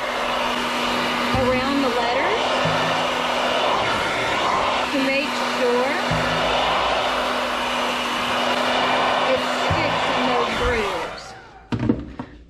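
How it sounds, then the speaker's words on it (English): Steady, loud whooshing roar of an old Revlon hair dryer heating adhesive vinyl on a textured surface close by for most of the time, with occasional thumps and a voice underneath, cutting off near the end. "since it's still wanting to lift, I'm gonna grab my hair dryer."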